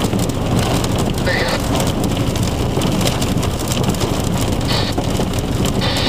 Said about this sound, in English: Bitty baby hail.